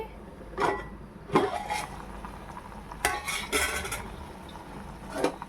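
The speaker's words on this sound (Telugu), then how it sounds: "కూర ఇలా ఉడికేటప్పుడు ఒకసారి ఇలా కలుపుకోవాలి." A spoon scraping and clinking against a pan while vankaya (eggplant) curry cooks, several distinct stirring strokes at irregular intervals over a low steady simmer, close and moderately loud.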